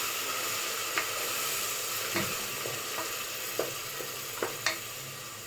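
Masala paste frying in oil in a pan for nati-style vegetable pulao, with a steady close sizzle and occasional light scrapes and taps of the spoon as it is stirred.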